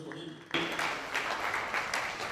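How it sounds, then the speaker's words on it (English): At a Lagos State University transport infrastructure event, a room of attendees breaks into applause that starts abruptly and continues steadily as a dense wash of clapping at moderate volume. "a round of applause for him"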